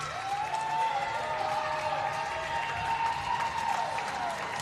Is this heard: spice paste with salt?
no